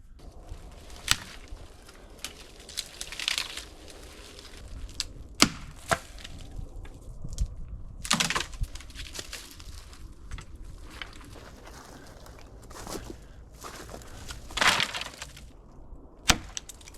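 Dry firewood gathered and snapped by hand at a wilderness campsite: scattered sharp cracks and splintering breaks amid rustling and handling, with irregular louder snaps spread throughout and no talking.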